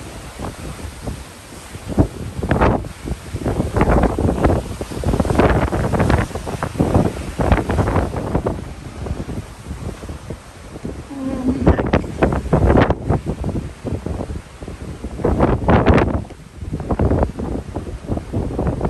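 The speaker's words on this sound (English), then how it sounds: "It's very windy." Strong, steady wind buffets the microphone on the deck of the P&O cruise ship Iona at sea, roaring and gusting continuously with low rumbling surges.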